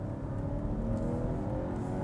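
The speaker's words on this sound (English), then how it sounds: "If I rev it up here" A 2022 Volvo S90 mild hybrid four-cylinder engine revs with a steady, fairly loud drone that rises slightly in pitch, heard from nearby without speech.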